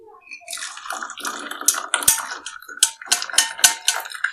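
Herbal kadha poured through a tea strainer into two glasses, a close trickle of liquid with irregular drips and small clinks, steady and moderately loud with no voices.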